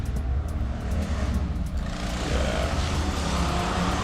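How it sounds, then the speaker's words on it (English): Road traffic passing outside a room, a steady loud roar of vehicles that swells in the second half as a car seems to go by, with no talk over it. "the traffic is passing outside and it's nice and loud"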